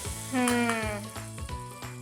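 A red chili tempering (tadka) sizzles as it is poured into dal for dal fry, a bright hissing crackle running under tonal background music with a brief louder surge early on.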